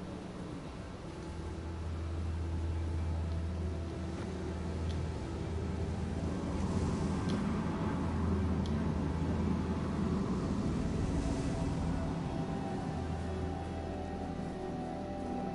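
Freezing storm wind in the game Journey: a continuous, fairly loud howling rush with low droning tones that swell and fade, steady throughout with no talking.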